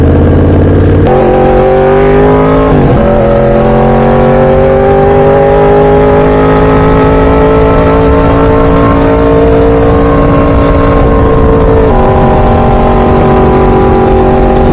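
A 2012 Yamaha R1 sport motorcycle engine idles steadily and loudly up close, its pitch lifting briefly near the start, dipping around three seconds, then holding an even hum with a slight shift late on.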